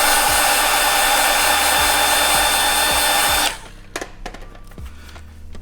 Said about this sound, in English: just take a heat gun if you have, or hair blower